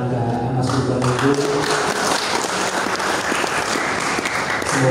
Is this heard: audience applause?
yes